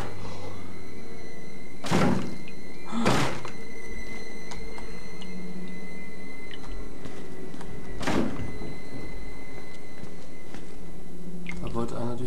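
Heavy door thuds in the horror game Outlast, three or four loud, separate hollow bangs spread over several seconds above a steady low background hum.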